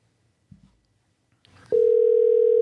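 A telephone handset picks up with a few clicks, then a loud, steady continuous line tone hums without a break as a call is placed.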